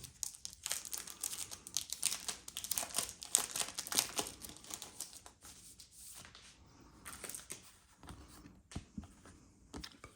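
Plastic packaging around board game scenery pieces for Chronicles of Drunagor being opened, close crinkling and crackling in irregular bursts that are busier at first and thin out toward the end.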